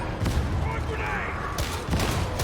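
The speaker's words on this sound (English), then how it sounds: "Frag grenade!" A frag grenade detonates amid gunfire in the co-op shooter Warhammer 40,000: Darktide, a loud burst with crackling debris and dense firing around it, while a player talks over the action.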